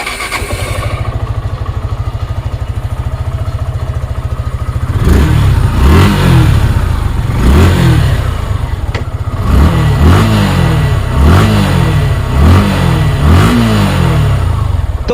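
A 2024 Suzuki Gixxer SF FI ABS motorcycle engine idles steadily, then is revved hard in a series of loud, rising and falling throttle blips, close up with no talking.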